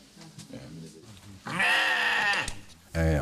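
A sheep on a farm gives one long, loud, wavering bleat after a stretch of low background sound, then a short second cry starts at the very end; a voice is heard faintly before the bleat.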